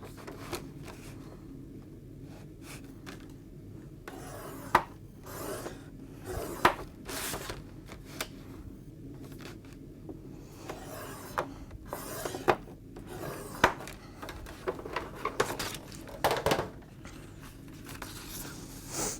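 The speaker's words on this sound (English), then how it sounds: "Just fold this in to make sure you've got that lined up perfectly." Cardboard panels of a takeaway-style box folded and creased by hand, giving soft rubbing and scraping with a few sharper crisp snaps, close and fairly quiet, with no talk.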